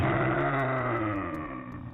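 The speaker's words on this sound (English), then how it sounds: "it's actually the sound of a growling bobcat" A bobcat growls in one low, rough, sustained snarl, close and steady, slowly fading toward the end; it serves as the pig cop enemy sound in Duke Nukem 3D.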